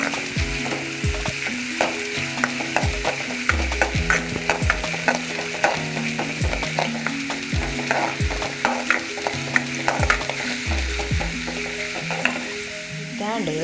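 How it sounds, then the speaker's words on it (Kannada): Onions fry and are stirred in a pan for a green masala dish, a loud continuous sizzle cut by frequent metallic scrapes and taps of the spoon in an irregular rhythm; no voices. "ಈರುಳ್ಳಿ ಪಾಡೊಂದುಲ್ಲೆ. ಒಂದೊಂದು ಹಾಕಿ ಫ್ರೈ ಆಗೋದು."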